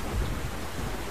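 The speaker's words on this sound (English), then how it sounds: "There was some thunderstorms brewing in the background, a little thunder echoing off the canyons." Low thunder rumbling and echoing off canyon walls as a thunderstorm builds near a mountain valley, a faint, distant roll lasting about a second with no voices.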